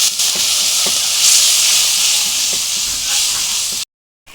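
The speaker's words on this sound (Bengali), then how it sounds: "অল্প একটু জল দিয়ে কষিয়ে নেব।" Chili, turmeric and salt frying with a little water in a hot pan for a jackfruit and prawn curry, a loud, steady sizzling hiss up close that cuts off abruptly near the end.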